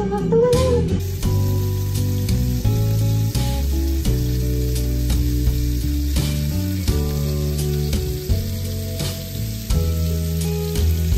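Pork chops pan-fry in a hot pan, sizzling and crackling loudly and steadily with scattered pops and occasional stirring scrapes throughout, no voices heard.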